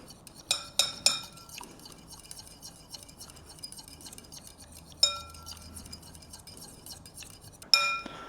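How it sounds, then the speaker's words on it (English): A fork or whisk clinks against a bowl in short bursts of sharp metallic taps, with quieter intermittent scraping in between. "mix this up, either use a fork or a whisk"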